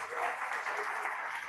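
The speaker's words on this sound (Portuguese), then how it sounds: "Dá uma salva de palmas para Jesus, gente." Church congregation applauding during a service, a brief, faint, steady wash of distant clapping with no voices on top.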